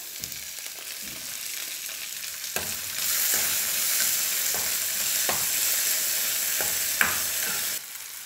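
Chopped tomatoes and a sprig of curry leaves sautéing in a pan for rasam give a steady, close sizzle. It grows louder and denser partway through, with scattered clicks of a spoon stirring and no voices.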